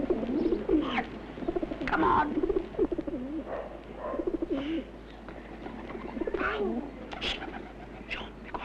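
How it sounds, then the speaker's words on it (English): Pigeon cooing repeatedly in a domestic setting, soft throaty coos recurring through the stretch while a person calls out and talks nearby. "That pigeon coming all the way back to us."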